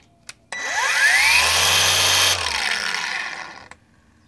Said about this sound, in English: Now I'm gonna be using a cordless dual action polisher.